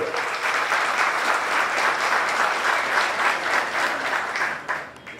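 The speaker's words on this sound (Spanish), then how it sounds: "Le recibimos con el aplauso de ustedes, por favor." A crowd at a history lecture applauds steadily and loudly, a dense patter of many hands clapping that tapers off at the very end.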